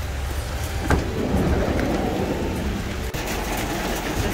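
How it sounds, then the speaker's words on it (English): A truck rumbles past on a wet street in light Florida rain, with a broad, steady roar and tire hiss close by and a constant wash of rain noise around it. "The sound of the truck. This is the sound of rain."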